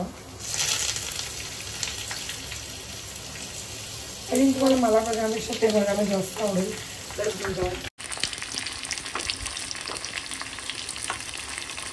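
Sliced onion dropped into a hot tempering of cumin, dried red chili and curry leaves, giving a steady loud sizzle and fry that surges midway, with someone talking over it.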